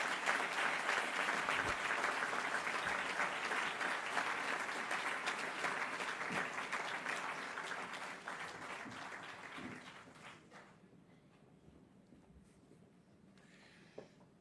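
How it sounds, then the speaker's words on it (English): An audience at a speaker event breaks into warm, sustained applause that fills the room for about ten seconds, then thins out and fades into near silence, with one faint knock near the end. "a warm applause for Tomás Hornos"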